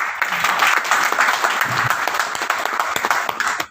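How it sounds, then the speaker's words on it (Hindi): Audience applause at a business talk in an Indore office, a dense steady wash of many clapping hands lasting several seconds before cutting off abruptly. "तो इनके लिए एक जोरदार तालियां"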